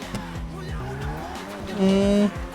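A BMW M4 F82 in the video game GTA 5 on a test drive, with repeated rising engine revs and gear shifts, a sustained tire squeal near the end, and a loud, close car sound throughout.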